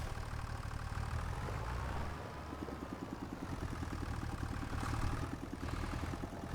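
Tractor engine idling in Farming Simulator 25, a steady low rumbling drone with a faint rhythmic mechanical pulse, continuous and moderately quiet throughout.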